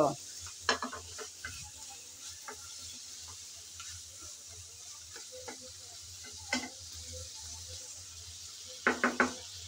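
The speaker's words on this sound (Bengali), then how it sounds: "কাঁকরোল দিয়ে আমি ভালো করে নেড়েচেড়ে কষিয়ে নেব।" Teasel gourd (kakrol) sizzles and fries in a pan with soft steady crackle, punctuated by scattered scraping and clinking stir strokes of a utensil against the pan.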